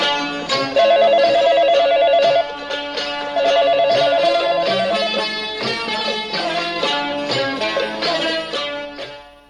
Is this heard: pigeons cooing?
no